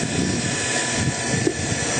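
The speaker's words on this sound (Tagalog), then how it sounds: "So nag-iba na po yung tunog ng ating motor." A solar water pump motor runs with a steady, droning hum, continuous, loud and close, with a broad whirring texture and no pauses.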